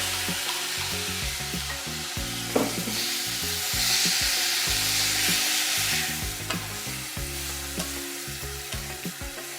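Crushed jamun fruit pulp cooking in a pan for jambu pak, loud close sizzling with repeated stirring scrapes and clatters throughout.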